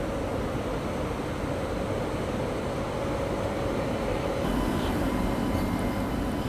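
Duronto Express bound for Bangalore pulling out of a station platform, a steady broad rumble of rolling wheels and train noise with continuous wash and a slight swell toward the end.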